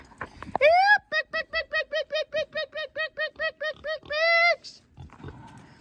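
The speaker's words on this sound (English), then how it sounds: "Oh, here they come. Pigs." Hogs approaching on a farm to be loaded into a livestock trailer, a close run of about a dozen rhythmic oinks and grunts bracketed by longer squeals, loud and alone.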